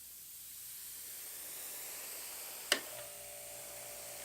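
A steady, even hiss of an airbrush spraying Mission Models primer, with a single sharp click partway through before the hiss carries on.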